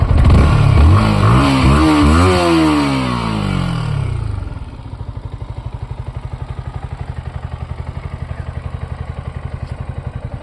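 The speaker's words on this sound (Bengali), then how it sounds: "এক্সস্ট নোটটা একবার শুনে দেখা তোমরা" A 2025 Yamaha MT-15 V2 motorcycle revs hard several times with rising and falling exhaust roars, then drops back to a steady, thumping idle nearby.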